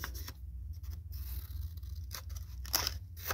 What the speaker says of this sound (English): Okay, so I'm going to trim off the excess.